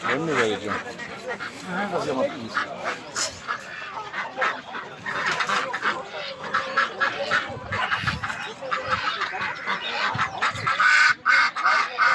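A flock of ducks at a poultry market quacks and honks continuously nearby, a dense overlapping chorus, with people talking underneath.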